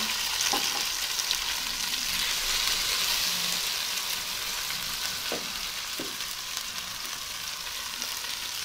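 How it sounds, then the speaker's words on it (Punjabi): Okra (bhindi) fries in hot oil, making a loud, dense, continuous sizzle with a few faint clinks of a utensil, heard alone. "ਪੰਜ ਕੁ ਮਿੰਟ ਭਿੰਡੀਆਂ ਨੂੰ ਤਲਾਂਗੇ"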